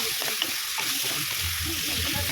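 Five ripe tomatoes, cut in halves, sauté in a pan for a sardine fish curry, producing a steady, close sizzle with soft bubbling underneath and no talk.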